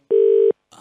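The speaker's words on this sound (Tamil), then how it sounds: "இப்ப கூப்பிடுறேன்" One steady telephone tone lasting under half a second, loud and close, then silence and a brief faint noise.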